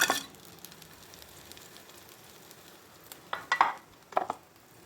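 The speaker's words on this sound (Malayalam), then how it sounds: "ആ ഫ്രൈ പാനിലേക്ക് കമത്തി ഇട്ട് കൊടുക്കാം" Fish for a Kerala-style fry laid face down into a hot frying pan with oil, a soft sizzle under a few sharp bursts of spitting and clattering near the start and end.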